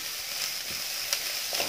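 Vegetables for street-style veg chowmein frying on a high gas flame, a continuous even sizzling hiss with a few faint clinks of stirring.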